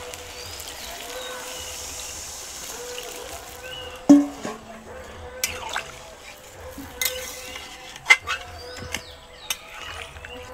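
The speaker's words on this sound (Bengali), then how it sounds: "এবার জলটা আমি মাংসের মধ্যে ঢেলে দেবো" Hot water is poured into mutton curry as it cooks in a pot, a soft liquid pour with scattered clinks and stirring knocks, set against a faint steady background hum.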